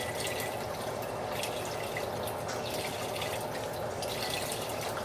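Water runs steadily into a pot of broth for keto ramen, a continuous close faucet-like stream with light dripping texture, with no talking.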